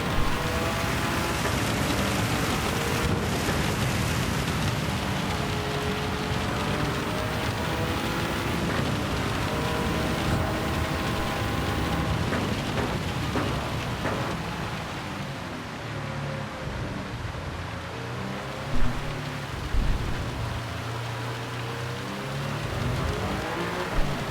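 Rain in Gran Turismo 7 during a race at Spa in a GR010 Hybrid, a continuous hiss of rainfall blended with the steady drone of the car's engine and tyre noise, no talking.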